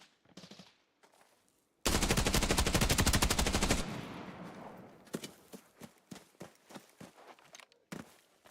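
Sustained automatic rifle fire in a tournament video game match, with M4 rifles in play: a dense, loud two-second burst of rapid shots, followed by scattered single shots and footsteps-like thuds, no talking.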